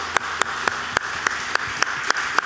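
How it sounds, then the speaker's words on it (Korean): Clapping in a Korean church setting comes as a few sharp, evenly spaced claps in a steady rhythm, about four per second, close and distinct rather than a dense crowd wash. "우리 박수로 하나님께 영광 돌리겠습니다"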